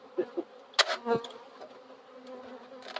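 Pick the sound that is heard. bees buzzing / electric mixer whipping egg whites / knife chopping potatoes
bees buzzing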